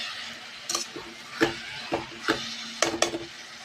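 Bhajji fry in hot oil in a pan with a soft, steady sizzle. Occasional sharp scraping clicks of stirring sound close by, with no talking.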